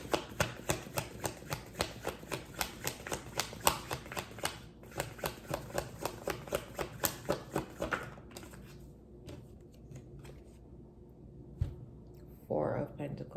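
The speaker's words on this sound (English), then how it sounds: "And I'm going to shuffle." Tarot cards are shuffled by hand in a close, rapid rhythm of crisp riffling clicks for about eight seconds, then a few scattered taps follow as the deck settles.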